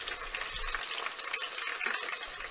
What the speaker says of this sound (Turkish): Ve şu anda gördüğünüz pembelikte hafif kızartacağız.